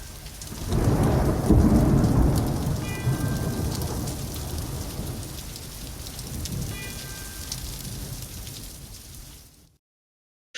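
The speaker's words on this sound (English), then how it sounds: "those bells at the beginning of that tune, the rain pouring down" Heavy rain pours steadily with a deep rolling thunderclap near the start, and faint bell tolls ring out twice beneath the downpour, opening a heavy metal song before cutting to silence.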